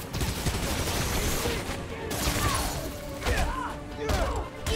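Gunfire from the video game Spider-Man: Miles Morales, a dense run of rapid shots and crashes layered over a busy combat soundscape that stays loud throughout.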